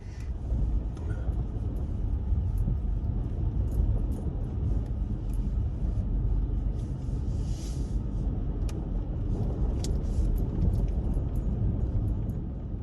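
Polaris Ranger 570 midsize side-by-side rolls down a snowy driveway in freezing weather, a steady low engine rumble with scattered clicks and knocks from the ride, constant and close throughout, no talk.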